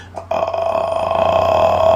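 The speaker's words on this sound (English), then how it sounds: "vocal fry is when you hear each vocal vibration, vocal cord vibration" A low, creaky vocal fry held steadily for about two seconds by a singer, the slow pulses of the vocal cords audible as a crackling buzz.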